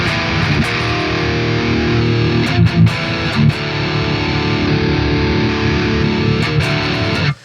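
Heavy high-gain distorted electric guitar through a Nutcracker amp, thick chugging power chords sustained loudly with brief muted stops and choppy palm-muted hits before ending abruptly.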